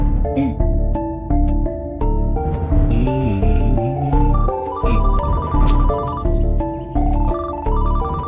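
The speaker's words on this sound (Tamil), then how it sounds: "குட், முதல்ல அவருக்கு ஃபோன் பண்ணு." A telephone ringtone plays loudly and alone as a call is placed, a bright repeating melodic pattern of electronic tones that cycles several times without pause.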